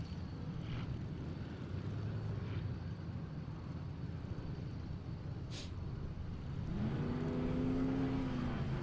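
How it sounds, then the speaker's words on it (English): 4800 class off-road race cars roar away from the start line at the Every Man Challenge, a steady broad engine rumble that builds toward the end. "Two more 4800 class cars."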